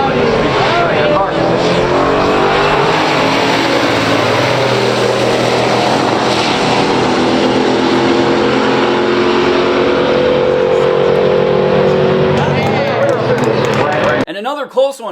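A 1969 Dodge Dart GTS 340 and a 1965 GTO race side by side at a pure stock drag strip, their engines roaring loud and sustained as they rise in pitch through a full pass, then cutting off abruptly, with a voice speaking over them.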